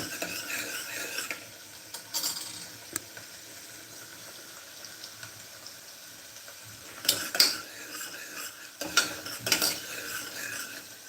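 Onions frying in a pan on a home stove until reddish, a soft steady sizzle with occasional clinks and scrapes of a spoon stirring.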